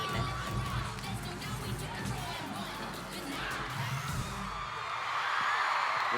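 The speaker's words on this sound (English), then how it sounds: "The crowd is going insane." A cheerleading competition crowd roars and cheers in an arena, dense sustained whoops and shouting mixed with loud music, with a commentator's voice over the top.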